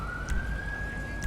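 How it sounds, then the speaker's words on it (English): Police car siren in the game FiveM, a steady sustained wail gliding slowly upward in pitch, close and loud over a low engine rumble with a couple of brief bursts. "I'm going to quickly kill sound so you guys don't have to hear that siren"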